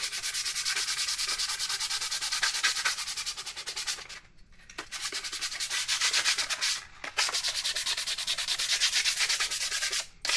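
A FeelFree Airship kayak is sanded by hand with 150 grit sandpaper, making a steady, close, loud abrasive rubbing. Two brief pauses break the scratching, which carries on with no voices.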